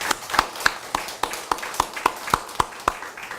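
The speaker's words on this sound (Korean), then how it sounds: "우리 그분들을 위해서 한번 서로 격려의 박수 한번 주시겠습니다" A church congregation at a Sunday worship service claps in a steady, even rhythm of about a dozen crisp claps, fairly quiet and with no voices over them.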